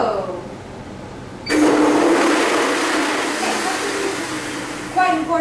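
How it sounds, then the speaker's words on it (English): A blender whirs loudly for several seconds, grinding fresh ginger, onions, garlic and habanero peppers, starting abruptly with a steady roar; a voice speaks briefly before and after. "All into the blender."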